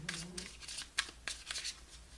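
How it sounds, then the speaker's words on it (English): Tarot cards are shuffled and drawn at close range in a quiet room, a few soft riffling bursts and flicks with a faint low hum underneath. "let's pull some advice and guidance and outcome cards"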